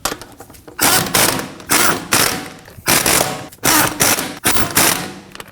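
A ratchet snugging down lug nuts on a Ford Edge wheel, rapid loud clicking bursts in about six separate runs with short pauses between, close and alone.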